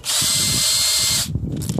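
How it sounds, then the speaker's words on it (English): A loud, high-pitched power drill with a 1/4 inch bit whines continuously for over a second drilling out a lock cylinder, then cuts off, leaving faint metallic scraping and handling noises. "I'm going to drill this thing right out."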